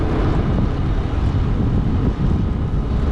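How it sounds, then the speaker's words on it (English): Breezy wind on Jomtien beach in Pattaya, a steady low roar buffeting the microphone throughout, loud and unbroken with no voices. "A little bit breezy today in Pattaya."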